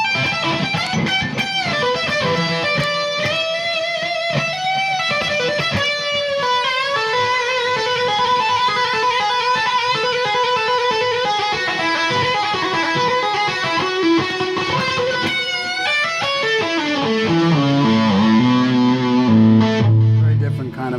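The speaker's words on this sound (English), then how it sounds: "And then a clean amp with the heavy distortion." Electric guitar through a clean amp driven by a heavy distortion pedal, a long saturated lead line of held and bending notes that grows thicker and lower toward the end, loud and continuous.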